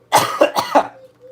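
Four quick, harsh coughs in a rapid burst, close and loud, followed by a faint hum.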